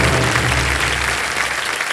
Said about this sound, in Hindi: और तालियां बजते रहें इनके लिए।